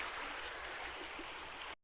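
A river stream flows at the spot where laundry was just washed, a steady loud rushing of water heard alone and close, cutting off abruptly at the end.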